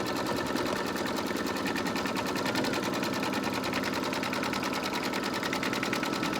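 An embroidery machine stitches around a Santa doorhanger, producing a fast, steady mechanical chatter of rapid needle strokes that runs continuously at moderate volume.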